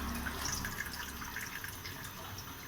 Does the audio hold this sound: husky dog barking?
no